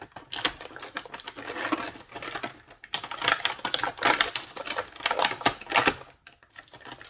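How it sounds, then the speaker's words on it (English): Packing tape tearing and ripping off the packaging of a boxed Playmates Primal Rage Diablo action figure, heard as dense crackling, snapping bursts in uneven runs with a short pause in the middle, close and fairly loud with no talking. "Oh, this tape just ripping. Doesn't want to come off exactly."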